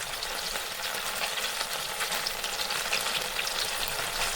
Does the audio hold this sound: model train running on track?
no